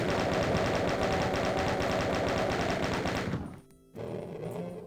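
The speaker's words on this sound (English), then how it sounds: "You can use the chain gunner there to deal damage to all the pinkies and delete them" A chaingunner fires in Doom 2, a rapid mechanical stream of shots with game sounds, cutting off briefly before more action resumes.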